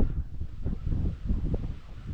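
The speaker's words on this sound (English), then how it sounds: "Oh my god, it's so windy as well." Strong wind buffeting at a mountain viewpoint, gusty low rumbling that rises and falls in quick pulses right at the microphone.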